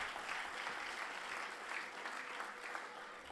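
An audience at a talk at the Tiruvallur book festival claps steadily and densely throughout, a sustained round of applause with no voices.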